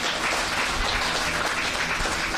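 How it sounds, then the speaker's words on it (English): A political audience claps steadily and loudly throughout, a dense continuous wash of applause with no pauses and no voice on top. "they're clapping"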